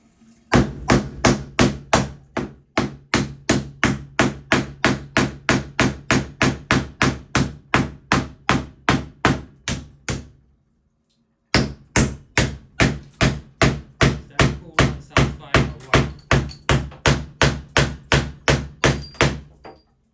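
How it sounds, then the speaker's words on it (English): Sledgehammer smashing shower wall tiles, a long run of loud, evenly spaced heavy blows, one brief pause, then another steady series of strikes. "Breaking the tiles. Here we go. We got a sledge. Sledgehammer's the best."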